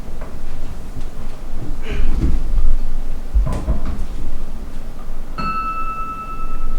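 An old metal club bell and wooden gavel handled as museum pieces: soft knocks and clatter of handling, then a single clear ring from the bell that lingers and fades.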